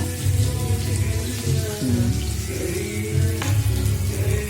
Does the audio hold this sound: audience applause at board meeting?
no